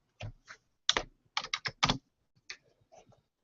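Crisp, close keystrokes on a computer keyboard in an irregular run of distinct taps and short clusters, clear against near silence.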